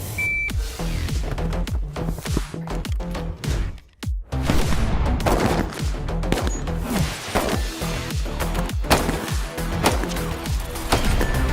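Sharp pistol shots fired in quick succession during a shooting competition shoot-off between two shooters, loud and close, with a brief pause partway through before the string of shots resumes.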